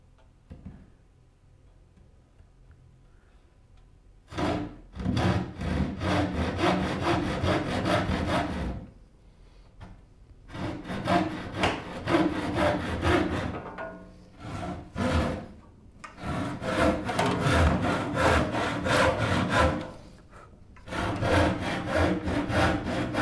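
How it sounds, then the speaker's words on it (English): Hand saw cutting wood for a rolling cabinet base: bursts of fast rasping back-and-forth strokes, loud and close, separated by short pauses between cutting sessions, with no talk. "Help if I could actually see what I'm sawing."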